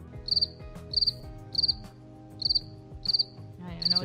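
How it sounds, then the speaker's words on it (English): Cricket chirping sound effect played as a joke on a podcast, with six evenly spaced bursts of rapid high trills over a faint steady background, no talk. "Is there a crickets button?"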